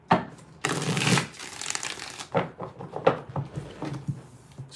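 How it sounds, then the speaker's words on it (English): Tarot cards being shuffled by hand in a few quick riffling bursts, close and crisp, with soft rustling and tapping between the shuffles. "Let's get four shuffles here."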